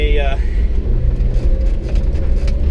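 A Japanese mini truck drives along a rutted old railway bed turned ATV trail in spring, its engine a steady close rumble throughout, with a brief tonal whine at the very start.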